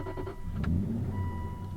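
A 2007 Aston Martin V8 Vantage fires up from a push-button start, with a brief starter whir and then a loud, close engine catch settling into a deep, steady idle.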